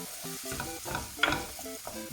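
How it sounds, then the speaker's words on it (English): Risotto rice toasting over high flame with porcini mushrooms and oil, a soft sizzle broken by rhythmic stirring and scraping strokes, close and fairly quiet with no talk. "toasting the rice together with the mushroom and the oil"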